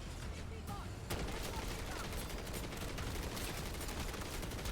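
Light machine gun fire in MW3 Zombies, heard as rapid, overlapping bursts that run continuously at a fairly low level, with game noise layered underneath.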